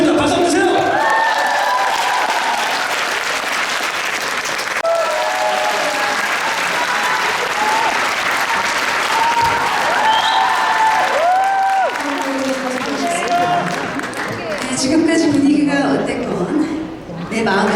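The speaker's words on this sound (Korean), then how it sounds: "박수 한번 주세요." A crowd applauds at a LifeWave grand opening event held at L Tower in Korea. The clapping is loud and steady for most of the clip, with voices and cheers scattered through it, and it tapers off briefly near the end.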